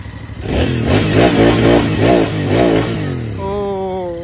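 A Royal Enfield Interceptor 650 twin-cylinder motorcycle engine is revved up and down several times at close range, giving loud rising and falling engine notes, then settles back to a lower steady idle.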